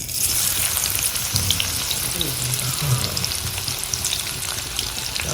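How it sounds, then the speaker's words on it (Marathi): Onion and curry leaves fry in hot oil in a kadhai over a high flame, giving a loud, dense, continuous sizzle close by with faint stirring underneath. "आता कांदा कढीपत्ता फोडणीला देऊन झाल्यानंतर थोडी आग फास्ट हवी होती"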